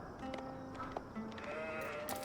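Sheep being hunted in Age of Empires 4 give a few short bleats at moderate volume. The calls are heard over a busy bed of game ambience, with no one talking.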